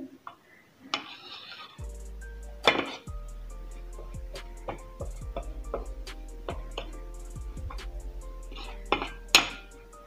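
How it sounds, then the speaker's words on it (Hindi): Spices such as salt, red chilli, dried coriander, carom and cumin being mixed in a bowl, heard as a series of close, distinct metallic clinks and taps of a spoon against the dish, irregular and fairly quiet, with no talking. "इधर हम मसाले को अच्छे से मिक्स करेंगे ताकि ये सब एक जान हो जाए।"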